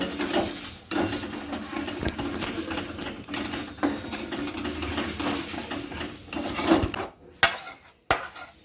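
Bean paste being stirred and fried in a wok (kadai), with a steady scraping and clattering of a utensil against the metal pan, growing busier and louder toward the end, with no talking.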